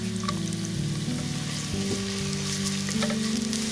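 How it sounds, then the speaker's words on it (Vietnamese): Shallots and garlic fry in oil in a pot, giving a steady close sizzle with occasional stirring clinks, alone without talk. "Mình cho hành tím và tỏi vào phi thơm."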